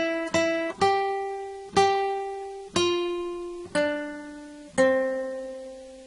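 Six clean plucked guitar notes from the latter part of the Jingle Bells chorus, moving from the first string to the second, played at a steady moderate pace with each tone ringing and fading, no talking.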